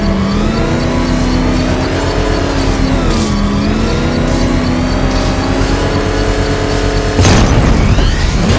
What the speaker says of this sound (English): Trigger a controlled explosion.